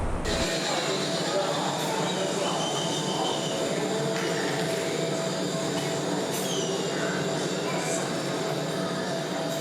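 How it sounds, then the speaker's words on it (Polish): At the station for the funicular tram up to Victoria Peak in Hong Kong, a loud steady rail rumble carries on throughout, with faint squeals and clatter layered over it. "dotarłam w końcu do kolejki, która zabierze mnie na wzgórze Wiktorii"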